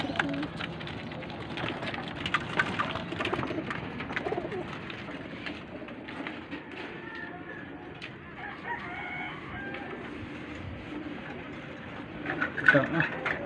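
Pigeons coo softly in a loft, with low murmuring calls mixed among other fowl sounds and a person speaking over them at moderate distance.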